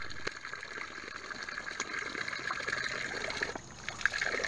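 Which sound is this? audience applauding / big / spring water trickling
spring water trickling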